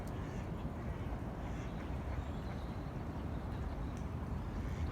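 Quacking from a mallard-type duck outdoors near a pond, steady broadband calls under constant ambient noise, moderately close, no talking.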